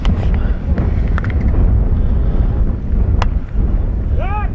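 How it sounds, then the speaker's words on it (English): Gusty wind roars across an outdoor baseball field, a loud, continuous rumble buffeting the microphone, with brief faint knocks and a short whistle near the end. "Wind picks up"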